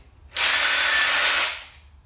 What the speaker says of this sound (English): they have an attachment for a drill gun